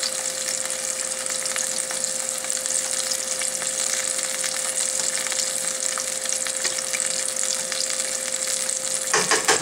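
Homemade onion rings frying in a pot of hot oil, a dense continuous sizzle and crackle heard up close, steady throughout with a faint background hum and no speech.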